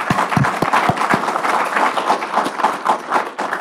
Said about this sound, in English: a round of applause for Julie